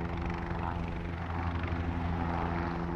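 Steady rotor and engine drone of a helicopter flying in a multiplayer shooter video game, a continuous, fairly loud hum with low tonal bands throughout, no voices.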